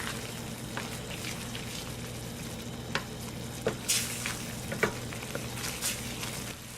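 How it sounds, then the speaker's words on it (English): White wine cooking out in a pan of spaghetti sauce gives a steady, moderate sizzle, with a few soft stirring clicks and scrapes scattered through it. No one speaks. "I'm going to put some good old white wine. And I'll let that cook out."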